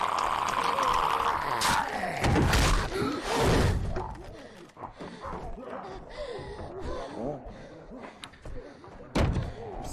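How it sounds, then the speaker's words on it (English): Heavy door slammed shut in The Walking Dead Season 2 video game, with loud thuds and impacts amid a scuffle and urgent voices, then quieter game dialogue and one more sharp knock near the end. "You close that door."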